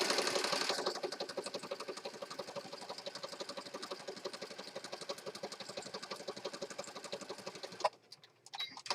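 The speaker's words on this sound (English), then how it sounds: "I'm going to stitch across here" Sewing machine stitching across an accordion fold journal, a steady rapid mechanical rattle of needle strokes running continuously for most of the time before stopping abruptly near the end.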